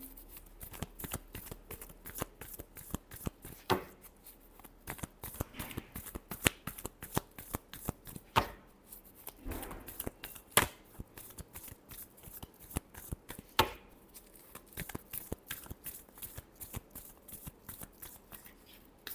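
Tarot cards shuffled by hand, a long run of quick crisp riffling and slapping clicks in close succession, near and steady, with no talk.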